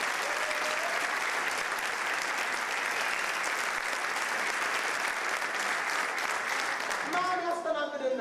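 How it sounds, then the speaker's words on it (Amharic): A church congregation claps together in a sustained, even burst of applause that fills the room, with the pastor's voice rising briefly over it as the clapping ends. "እግዚአብሔር የሰጠን ሰዎች እስቲ አጨብጭቡ"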